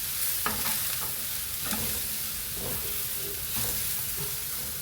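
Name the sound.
spices frying in a pan for chicken curry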